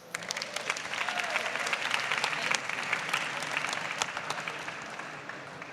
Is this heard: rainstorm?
no